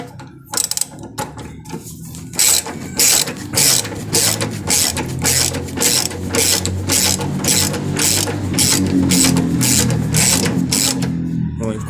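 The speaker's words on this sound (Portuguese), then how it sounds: "Agora não vai na mão, vamos usar a catraca." A hand ratchet tightens a suspension bolt on a Chevrolet Celta with rapid, rhythmic clicking strokes that repeat steadily at close range for about ten seconds.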